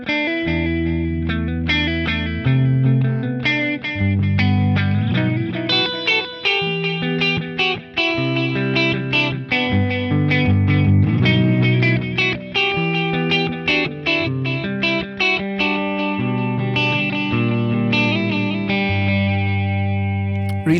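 Electric guitar played through a BOSS Katana 50 MK2 EX amp with light delay and reverb, a continuous distorted, effects-laden passage of chords and single notes ringing out steadily with no talking.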